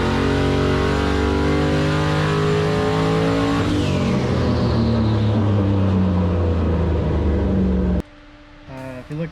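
A turbocharged LS-swapped Foxbody Mustang with an 80mm turbo revs hard and progressively, its loud engine note rising steadily in pitch for several seconds before cutting off abruptly into a brief quieter tail.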